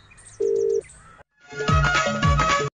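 A mobile phone ringtone plays in short bursts, a tonal beep pattern followed by a louder melodic ring with repeating chirping notes, close and clear.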